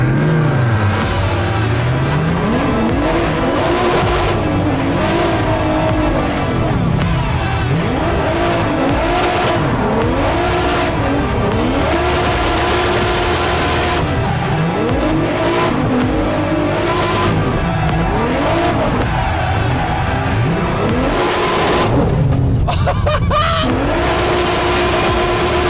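Drifting cars roar continuously, engines revving up and down in repeated sweeps while tires squeal and skid, loud and close throughout with no clear talk.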